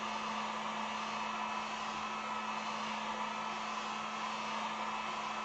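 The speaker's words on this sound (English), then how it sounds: "when you're working with a heat gun or a blow dryer" A steady, continuous whir of a blow dryer drying acrylic paint on a wooden sign, running at constant speed, loud and close, with no pauses and no voices.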